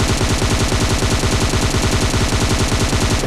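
Rapid automatic gunfire in PUBG Mobile, a loud, continuous burst of evenly spaced shots rattling close up with no speech over it.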